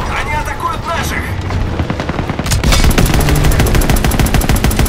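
Loud rapid gunfire rattles in dense bursts in the video game Call of Duty: WWII, intensifying into sustained automatic fire, with a voice talking over the din.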